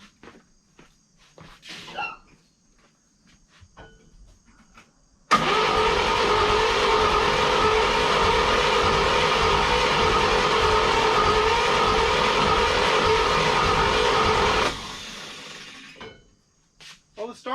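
A 1954 Chevrolet Bel Air starter cranks the engine over continuously for about nine seconds, a loud, rough, steady grinding churn that begins and stops abruptly, with faint scuffing and movement sounds before and after.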